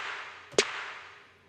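A single sharp drum hit rings out, followed by a long, washy reverb tail that slowly fades away.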